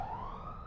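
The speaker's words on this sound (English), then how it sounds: "Sirens are going off here" Siren wailing continuously, a steady rising tone held throughout at moderate loudness, with no voices over it.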